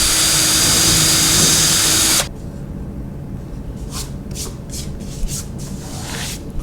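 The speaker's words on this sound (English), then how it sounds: "I'm just going to take my drill bit, line up the crosshairs" A power drill whines steadily for about two seconds drilling holes in white oak, then stops, leaving faint rustling and handling noises.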